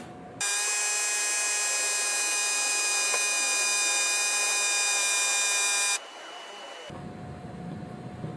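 A fuel injector test machine sprays injector number 4 with a loud, steady whining hiss with tonal overtones that starts abruptly, holds for several seconds, then cuts off, leaving a softer machine hum.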